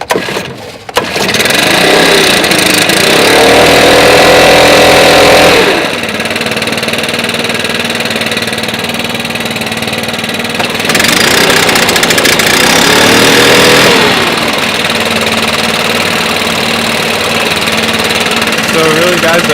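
Stihl BR 700 and BR 800 backpack leaf blowers run loud and close, a rough engine drone with a broad airy roar that swells and drops as the throttle changes, continuous throughout.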